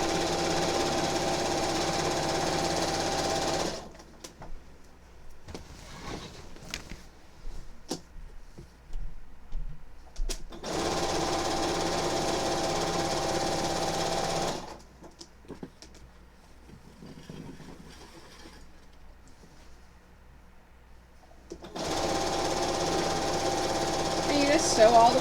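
A sewing machine stitches quilt binding down in long steady bursts of rapid mechanical rattling, stopping twice for quieter stretches with soft handling noises and a voice talking.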